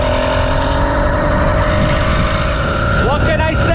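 A 20-plus-year-old HPI Nitro RS4 RC motorcycle's nitro engine runs loud and close, a steady buzzing drone with strong harmonics that rises in pitch near the end as it revs, with no talk.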